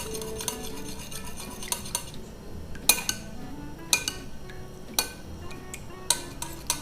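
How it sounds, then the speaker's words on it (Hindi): A spoon stirs a small dab of yogurt starter into slightly warm milk in a bowl, giving off light scraping and a series of bright metallic clinks at irregular intervals, close and clear, with no talking. "ये दही लेंगे, इतना सा, बिल्कुल थोड़ा सा, और इसको अच्छी तरह मिक्स कर देंगे।"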